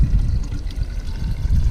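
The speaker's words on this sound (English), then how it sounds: "if I pour some water in there" Water poured into a pipe fitting to test its seal, a short splashing gurgle of liquid lasting under two seconds, close up and moderately loud, with no talking.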